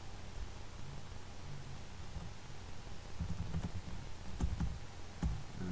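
Faint, irregular keyboard clicks tapping through a steady hiss of background noise, quickening into a few sharper keystrokes toward the end.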